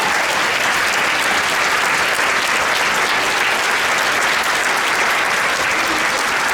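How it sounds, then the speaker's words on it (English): A dense, loud round of applause from a crowd at a nurses' awards celebration, continuous clapping that holds evenly from start to finish. "will you join me in my round of applause for each and every one of you"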